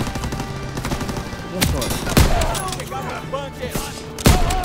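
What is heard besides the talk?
machine gun fire in video game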